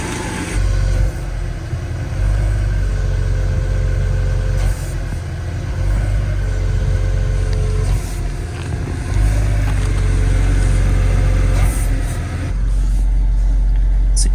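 An older BMW engine revs up and down under scan tool control, several loud, close surges of rising engine roar separated by steadier idle stretches.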